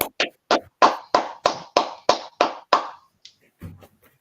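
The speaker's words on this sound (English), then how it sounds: "Clap it up." About ten sharp claps sound at a steady, even beat, close and distinct, then they stop and a few faint sounds follow.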